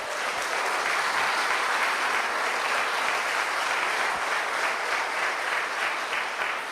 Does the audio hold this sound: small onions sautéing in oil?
no